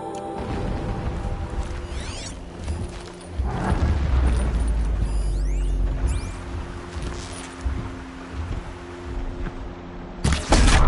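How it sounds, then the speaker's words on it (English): Low muffled explosions in the video game Horizon Zero Dawn rumble from afar over a busy mechanical background, with occasional sharper whooshes and a louder burst near the end. "explosions in the distance."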